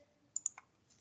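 Computer mouse double click on a desk during SAP vendor invoice posting, two quick faint clicks close together followed by a softer third tap, quiet and alone.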